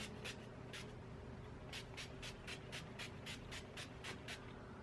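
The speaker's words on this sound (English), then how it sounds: "And I'm just going to spray my face." NYX Dewy Finish setting spray is misted onto a face in a quick series of about a dozen short, close, hissing pumps, some in rapid bursts, in a quiet room.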